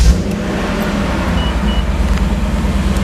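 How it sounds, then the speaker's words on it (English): A car engine cold start through an X-pipe exhaust, a loud, steady low rumble filling the whole stretch with no talking over it. "we'll do a startup clip here, a cold start with the X-Pipe."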